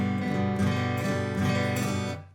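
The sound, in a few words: stiff guitar strumming with arm only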